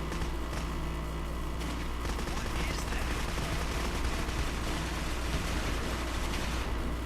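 Sustained gunfire in the video game Clive Barker's Jericho, a dense, continuous barrage of overlapping shots and rumbling bursts that stays loud throughout.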